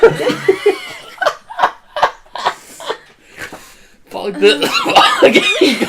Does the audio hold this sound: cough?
yes